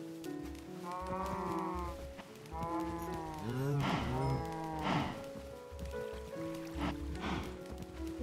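Several cows in a Minecraft farm pen moo in a steady series of drawn-out, wavering calls, loud and close, with soft rain-like patter and game ambience underneath and no speech.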